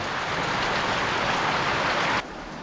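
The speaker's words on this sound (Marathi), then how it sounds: "सकाळपासून मोठी मोठी झड येते हे बघा आता पण पावसाची झड आले" Dense, steady hiss of heavy rain pouring down, loud and continuous, dropping suddenly in level near the end.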